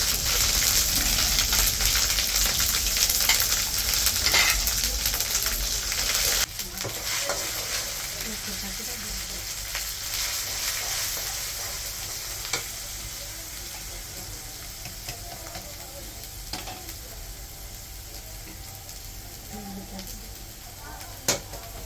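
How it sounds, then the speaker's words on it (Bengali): Ginger paste frying in hot oil with cardamom, cloves, cumin and bay leaf, a steady sizzle with spoon stirring and occasional clanks against the pan, close and continuous. "আদা বাটাটা দিয়ে দিলাম"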